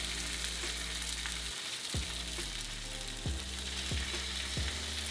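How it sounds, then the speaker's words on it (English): Continuous loud sizzling of fish frying in hot oil, close up, with occasional scraping and clinks of a utensil in the pan. "You want to hear that sizzle."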